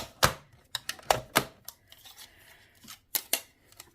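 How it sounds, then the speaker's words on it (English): A small mini die cutting machine presses a paper banner shape through, giving sharp, close clicks and crunches in irregular bursts with short pauses, no voices. "we will cut that out with our little mini die cutting machine"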